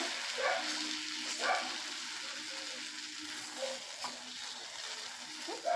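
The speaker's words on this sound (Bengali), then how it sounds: "সুজিটা দিয়ে আবারও আমি একটু নেড়ে চেড়ে সুজিটার সঙ্গে কষিয়ে নেব" Semolina being stirred and roasted with vegetables in a pan: soft, low-level sizzling broken by intermittent scraping strokes of the spatula at an uneven rhythm.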